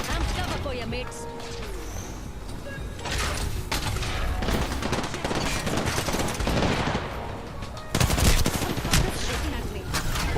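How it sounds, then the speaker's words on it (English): Bursts of gunfire from the video game Apex Legends crackle in rapid volleys with heavy impacts, loud and busy throughout, while players talk over the shooting. "Shooting at me."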